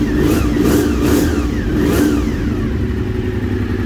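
A V-engined Artefakto motorcycle, just started, roars close and loud with a few rising throttle blips in the first two seconds, then settles into a steady, rumbling idle.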